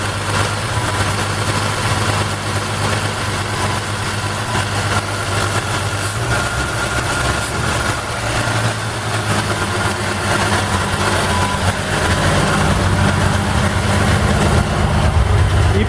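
A 1952 Chevrolet Styleline engine idles steadily with a low, even rumble and slight vibration, holding a constant pace throughout with no voices.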